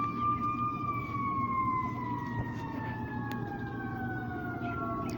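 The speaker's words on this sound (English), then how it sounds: "Sirens again." Emergency sirens wail steadily in the distance, their pitch gliding slowly downward as they pass, constant and moderately loud with no talking.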